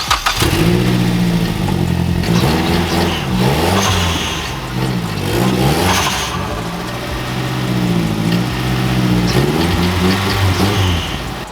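A Mazdaspeed 3 with an exhaust leak, its engine revving loudly and steadily at close range, with rising and falling pitch sweeps through repeated throttle blips and no talk over it.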